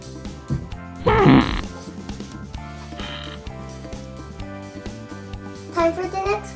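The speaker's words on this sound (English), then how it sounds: "It's a whoopee cushion. It makes a fart sound." A toy whoopee cushion gives a loud, brief, buzzy fart sound, followed by a quieter second burst and another near the end, heard over steady background music.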